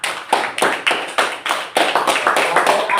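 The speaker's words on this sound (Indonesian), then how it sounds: "Tepuk tangan kita semua." A classroom group claps together in a short, bright burst of applause, with sharp overlapping hand claps that are loud and close and last about three seconds, with no speech.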